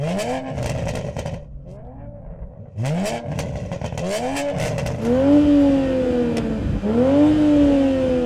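A tuned Toyota Supra's exhaust revs repeatedly, rising and falling in pitch with sharp crackles between blips, loud and close.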